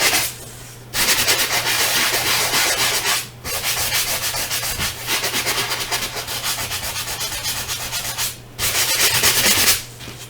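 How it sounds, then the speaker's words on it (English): Close, steady sanding of embossed paper: a gritty scraping rub in long continuous passes, broken by a few short pauses. "You can do as much sanding or as little as you like."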